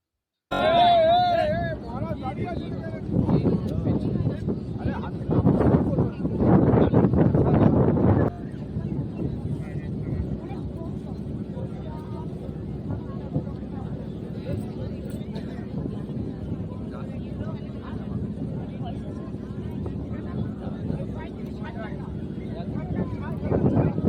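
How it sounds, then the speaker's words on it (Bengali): A boat crossing the middle of the Ganga river near Nabadwip, with a steady low rumble and wind buffeting throughout, and voices talking over it near the start. "এখন আমরা রয়েছি ঠিক গঙ্গা নদীর মাঝখানে, আর ওই দিক থেকে আসছে আমাদের আরেকটি নৌকা।"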